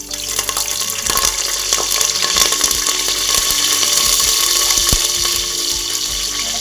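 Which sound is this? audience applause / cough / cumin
cumin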